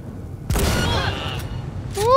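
A shotgun blast in the video game Cyberpunk 2077, one loud broadband boom with a short echoing tail, then a rising electronic whine near the end.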